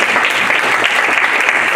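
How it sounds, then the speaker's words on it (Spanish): A church congregation claps loudly, a thick continuous roar of many hands that stays even and close for the whole short stretch, with no speech over it. "Un fuerte aplauso."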